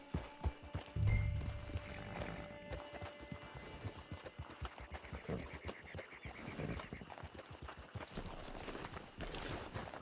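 Horse hooves clip-clop steadily at a walking pace in the video game Red Dead Redemption Online, a rhythmic series of close, distinct hoof strikes with soft game ambience behind.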